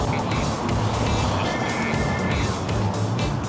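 Heavy traffic rolls along Hollywood Boulevard at La Brea in Los Angeles, a loud, continuous rumble of car engines and tires with vehicles passing close by.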